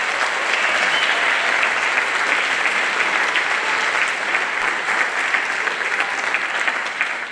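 An audience at a middle school spring band concert applauds for the 8th grade band, giving steady, dense clapping that holds evenly for the whole stretch without a break.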